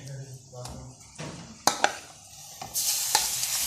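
Marinated minced meat tipped into browned onions in a hot pan for Bihari dum keema, with spoon clanks and scraping stirs, then a loud, hissing sizzle rising close up near the end.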